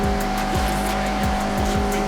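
In Forza Horizon 6 on PC, a Mazda MX-5 drifts with its tires squealing continuously under a loud, close engine drone, while repeated gear shifts and revs rise and fall.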